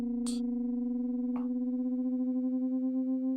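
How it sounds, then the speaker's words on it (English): A steady pure tone made of two close-pitched sine waves drifting in and out of phase, slowly swelling and fading against each other, producing a gentle wobbling pulse, with a couple of faint clicks. "So now it's two sine waves that are always very close to each other in pitch"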